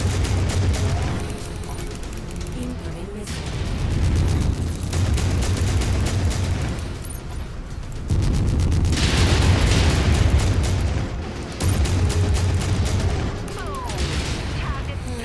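Ultra autocannon fire and explosions in the mech combat game MechWarrior 5: Mercenaries, heard as dense bursts of rapid booming shots in several loud waves that swell and cut off, with a low rumble throughout.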